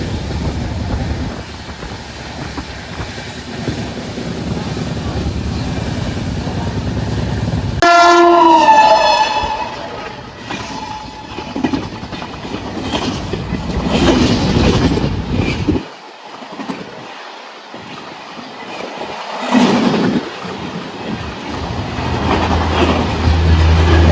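A Jammu Tawi Express train runs with a loud, continuous rumble heard from inside a second class carriage, a train horn sounding partway through, then rhythmic rattling and clatter of the wagons.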